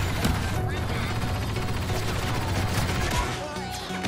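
Rapid sentry gun fire in the Star Wars Battlefront 2 video game, a dense, continuous stream of shots layered with other battle noise at moderate loudness.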